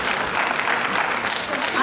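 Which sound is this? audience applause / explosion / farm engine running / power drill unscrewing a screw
audience applause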